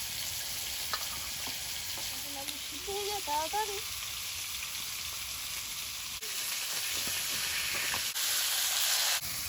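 Tengra fish frying in hot oil, an even, steady sizzling hiss that runs through the whole stretch, with a brief faint voice early on.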